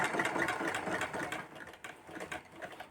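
A sewing machine stitches fabric with a steady, fairly quiet whirring hum and faint rhythmic needle ticking throughout.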